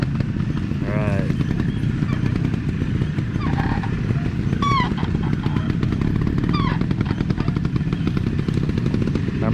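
Dirt motorcycle ridden on throttle alone without the clutch during a training session, a steady loud engine drone throughout, with a shouted voice and brief chirpy squeaks over it.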